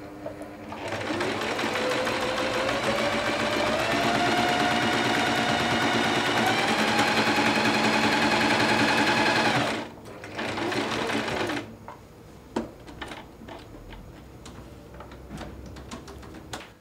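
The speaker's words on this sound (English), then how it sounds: "then you line up the hole in the foot with the markings on your fabric, and then you're ready to start sewing" A sewing machine runs fast and steady, stitching a buttonhole on a summer dress for about ten seconds, then stops briefly, resumes for a short run and falls quiet amid scattered clicks and handling sounds.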